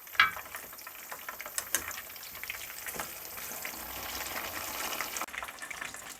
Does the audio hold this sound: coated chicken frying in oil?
yes